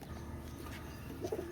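Pigeons cooing in a loft, a low murmuring coo over steady background hum, with a slightly louder coo near the end.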